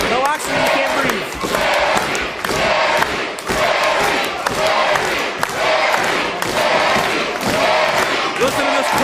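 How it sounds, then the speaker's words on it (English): Live wrestling crowd at a Night of Legends event roaring and cheering, loud and continuous, with rhythmic thumps and slams and a commentator talking over the noise. "Listen to this crowd willing Lawler into a second burst of adrenaline."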